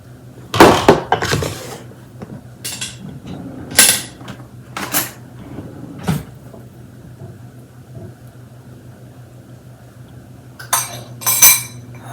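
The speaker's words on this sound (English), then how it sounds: "Take your rice and you want to mix it with your sauce." A spoon mixes rice with sauce in a dish, giving irregular bursts of scraping and clinking metal against the dish, separated by quiet gaps over a low steady hum.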